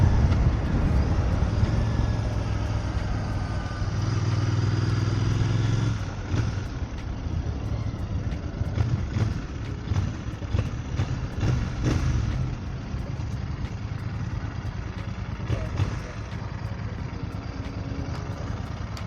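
A Benelli-style Bear 650 scrambler motorcycle being ridden, its engine a steady, loud drone with rushing wind noise that shifts slightly in tone partway through, with no talking.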